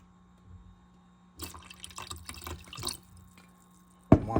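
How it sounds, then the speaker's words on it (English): Apple cider vinegar poured into a crock-pot during brisket prep, a soft trickling pour with faint dripping that runs for about a second and a half, then a sharp clink near the end; no one talks. "So I'm going to add a little bit of apple cider vinegar."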